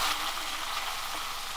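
Small fish coated in salt and turmeric frying softly in hot oil, a steady broadband sizzle that holds evenly throughout at moderate loudness, with no voices.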